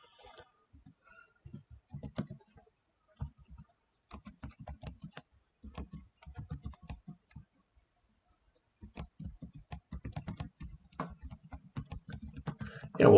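Bursts of rapid clicking keystrokes on a computer keyboard while typing C# code, coming in irregular runs with short pauses, close and fairly quiet, with no talking.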